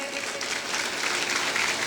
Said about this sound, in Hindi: बिल्कुल तालियां बजाइए प्लीज